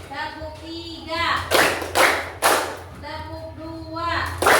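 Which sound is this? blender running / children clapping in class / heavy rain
children clapping in class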